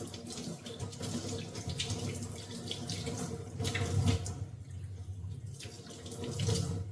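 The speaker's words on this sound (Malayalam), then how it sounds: "നമുക്ക് ഇനി ഈ കൈ ഒന്ന് കഴുകാം" Hands being washed under a running tap, a steady close stream of water splashing into a sink with small shifts as the hands move, no speech.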